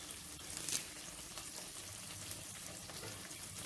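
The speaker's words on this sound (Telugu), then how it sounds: "ఉల్లిపాయ ముక్కల్ని ఇలా కొంచెం కలర్ వచ్చేంత వరకు వేయించుకోవాలి" Onion pieces and fresh curry leaves fry in hot oil, giving off a steady close sizzle and crackle with faint stirring noises and no talking.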